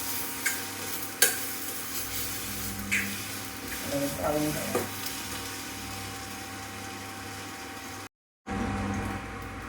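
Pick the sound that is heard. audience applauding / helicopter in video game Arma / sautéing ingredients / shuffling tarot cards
sautéing ingredients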